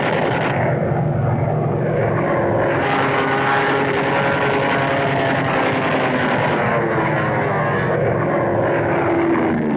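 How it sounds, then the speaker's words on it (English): Japanese warplanes in the Marshall Islands Campaign, a loud, continuous roar of propeller aircraft engines flying overhead, dense and unbroken for about ten seconds with no talk. "The Japs sent up planes trying to drive us off, but the attempt ended in spectacular suicide."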